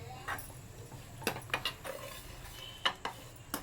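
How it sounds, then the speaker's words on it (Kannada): A spatula scrapes and taps against a pan as grated coconut is roasted for curry leaf chutney powder, giving a few sharp clinks spaced over a quiet, faint background. "ಈಗ ಕೊಬ್ಬರಿ ಹಾಕ್ಕೋತಾ ಇದ್ದೀನಿ."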